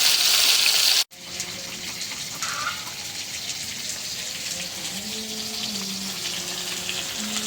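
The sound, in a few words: fish frying in a pan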